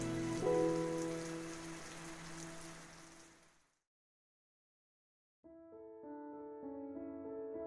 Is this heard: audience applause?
no